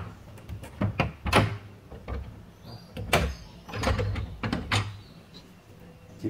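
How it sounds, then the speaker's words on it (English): A key works a lock on a door, giving a run of scraping metallic clicks, rattles and clunks that rise and fall unevenly, close up with no talking. "And lock it, and I want to see the key."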